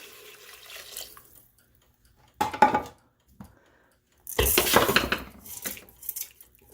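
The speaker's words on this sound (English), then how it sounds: "now I am going to add the remainder of my 3 cups of water" Water splashes and pours into a metal pot of lentils in two bursts, with clinks of cookware between them, close up and fairly loud.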